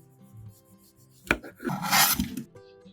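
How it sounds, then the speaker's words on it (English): A knife cuts lightly through the ends of a dragon fruit, giving a sharp slice followed by a longer moist rasp and scrape against the board. The sound is close, brief and clear, with no talk. "Trim the ends lightly."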